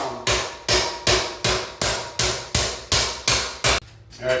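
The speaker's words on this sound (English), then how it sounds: "This giant ball peen hammer." Ten heavy metallic blows from a large ball peen hammer shaping tin valve covers ring out at a steady, deliberate pace, each strike sharp and loud with a short ringing decay.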